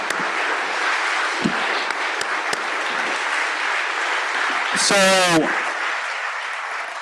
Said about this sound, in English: Let's give some applause to that.